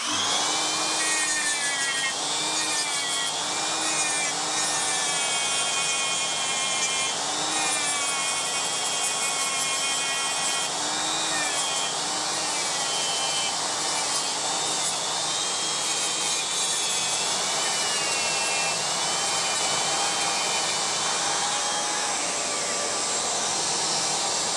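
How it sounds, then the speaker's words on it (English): Grinding bits and flap wheels work over engine combustion chambers in a steady, high-pitched whine that rises and dips slightly with tool pressure, continuous and close for the whole stretch. "It's going to be noisy because it's grinding."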